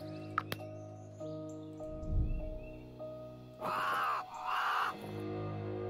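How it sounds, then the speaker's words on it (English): Bird chirps from a hidden object video game, a few sparse calls over a steady tonal game soundtrack with brief louder bursts of other game effects. "Perhaps something loud could scare the bird?"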